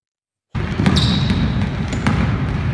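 A ball bouncing steadily and loudly on a hard surface, with a few sharp impacts standing out over dense, continuous noise and no talk.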